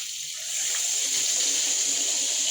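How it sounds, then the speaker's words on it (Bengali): Water pours into a pan of vegetable curry with potatoes, pointed gourd and soybean chunks, a steady close rushing gush that swells after the first half second and keeps flowing evenly. "এবার আমি দিয়ে দেব জল"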